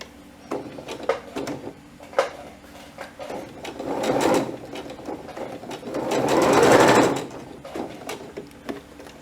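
A sewing machine stitches a dart on a satin dress with the stitch length shortened to 1.5. It runs in two sustained bursts, the longer one near the end, with quiet clicks and handling in between and no talking.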